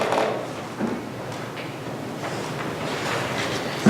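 River water sound effect, a steady broadband rush and wash with gentle surges, moderately loud and continuous, with no voices over it.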